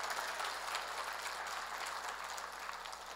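An audience at an evangelistic gathering in Busan applauds, a dense, even hiss of many hands clapping that holds steady throughout without voices.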